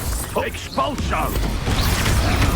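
An Expulso spell blast in Hogwarts Legacy combat: a loud, sustained crunching burst of clattering debris and rumble, with brief warbling tonal effects near the start.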